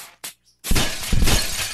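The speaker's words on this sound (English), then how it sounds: "I'm gonna have an obsession with breaking glass in this game." A shattering smash of glass in the video game Happy Wheels, heard as a sharp tinkle, a brief pause, then a loud, bright burst of breaking glass with scattering shards.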